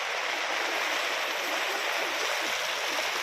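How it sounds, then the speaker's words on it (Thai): Rain pours steadily with strong wind at a campsite tent in Thong Pha Phum National Park, a loud, unbroken hiss of falling water that fills the whole stretch without pause. "ฝนมันตกตลอดแล้วมีลมมาด้วย"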